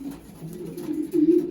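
Racing pigeons coo in a low, throaty, rolling murmur, several soft overlapping calls that swell louder toward the end, with no talking.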